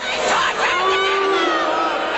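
Crowd at a circus protest booing loudly as a protester is led away, a swelling mass of jeering voices heard for a couple of seconds.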